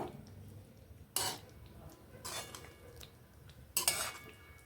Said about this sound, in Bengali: এবার আমি পটলগুলোকে দিয়ে দেবো। একটু আস্তে করে হালকা হাতে নাড়াচাড়া করে নেব।